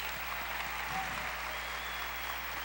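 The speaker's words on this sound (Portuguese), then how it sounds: "Podem aplaudir o Senhor, Ele merece." A church congregation applauds during a service: a faint, distant, even wash of clapping that holds steady throughout.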